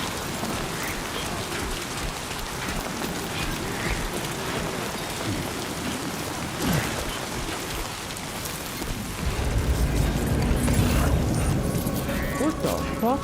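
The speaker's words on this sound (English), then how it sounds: "You can like feel every rain droplet." Steady rain pattering across the landscape of the Death Stranding 2 video game, a dense hiss with rumbling thunder-like swells that grow louder near the end, while a person talks over it.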